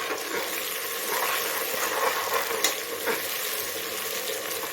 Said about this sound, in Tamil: இந்த கொத்தமல்லி, புதினா பேஸ்ட்டு போட்டுடலாம். போட்டு நல்லா ஒரு நிமிஷம் வதக்கி விடணும்.